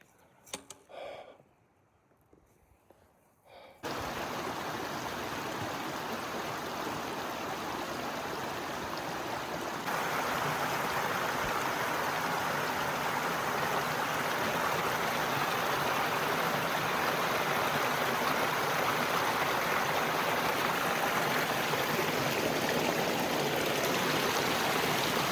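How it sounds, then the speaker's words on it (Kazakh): A mountain stream of melting snow rushing high in the Sairam mountains, a loud, steady broadband roar of flowing water close by that starts after a few seconds of quieter handling noise and continues unbroken. "бұлақ өзен болып ағып жатыр мына қар"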